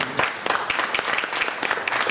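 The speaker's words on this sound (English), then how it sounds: "Let's give them a round of applause." An audience at a panel discussion applauds, a short burst of scattered clapping from a modest crowd that stays moderately loud for about two seconds, with a little talk mixed in.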